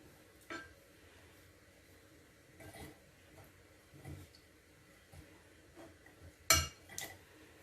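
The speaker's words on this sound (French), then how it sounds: "le miel est un peu difficile à mélanger, c'est pour ça que j'ai pris une fourchette au lieu d'une cuillère" A fork stirring a thick honey mixture in a bowl, sparse scraping and clinking taps of metal against the dish at irregular intervals, close and fairly quiet, with one sharper clink near the end.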